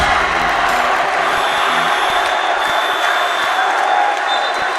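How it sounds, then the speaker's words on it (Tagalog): A basketball crowd roars loudly and continuously at a convention center game, a dense wall of cheering and shouting that swells near the start and holds, with commentary faintly underneath. "Listen to this crowd."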